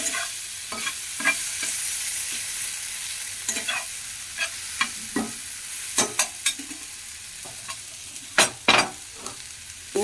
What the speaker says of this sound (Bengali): এটা লোহার কড়াইয়ের নিচেই হয়ে যাচ্ছে ভাজা।